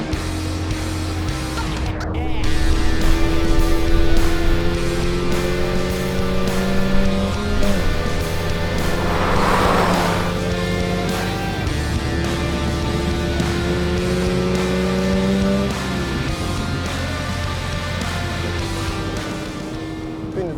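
A rally car runs a timed lap on budget tyres, its engine note rising and falling through gear changes under a constant rumble heard from inside the cabin. The engine sound is loud and continuous throughout.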